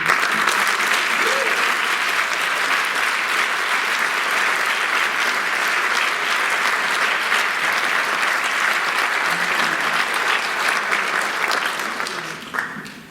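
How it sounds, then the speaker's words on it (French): A long, sustained round of applause from a symposium audience in Brussels honouring a professor, dense steady clapping that holds evenly before tapering off at the end. "Je vous demande de l'applaudir au moment où..."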